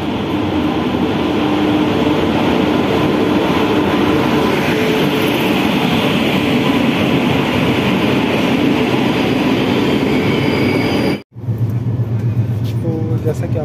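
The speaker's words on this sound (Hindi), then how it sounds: "हमारी जो पूरी जाने वाली ट्रेन है वो आ चुकी है" A passenger train bound for Puri pulls into Raigarh station, a loud, continuous rumble and rattle of rail cars filling the scene, with a brief dropout near the end and voices talking beneath it.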